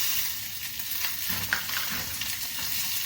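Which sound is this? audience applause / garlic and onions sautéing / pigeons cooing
garlic and onions sautéing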